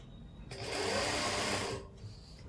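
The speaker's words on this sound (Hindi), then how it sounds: "अब मैं साथ के साथ एक सिलाई और लगा दूंगी इसमें।" A sewing machine runs in one steady burst of fast, whirring stitching lasting just over a second while sewing a sleeve onto a kurti, with quiet room sound before and after.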